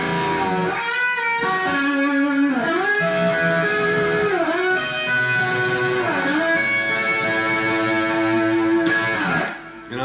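Electric guitar with distortion and chorus effects plays a lick, finger-bent sustained notes sliding and singing over a continuous wash of tone for about ten seconds, with no talking.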